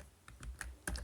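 A few soft keystrokes tap on a computer keyboard while JavaScript code is typed, four or five quiet, close clicks spread across about one second.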